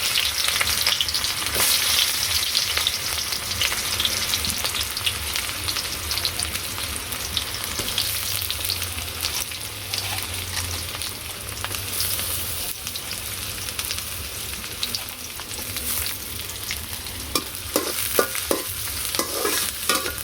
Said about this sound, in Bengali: এরপর পেঁয়াজ কুচি দিয়ে দিলাম